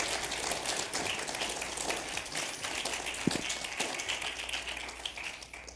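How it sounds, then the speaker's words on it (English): An audience at an evening general election candidate forum applauds for the candidates, a moderate crowd of steady clapping with one sharper nearby clap midway, tapering slightly toward the end. "Another round of applause, if you wouldn't mind, for the candidates who showed up this evening."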